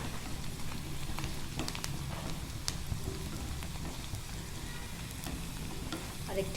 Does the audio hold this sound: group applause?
no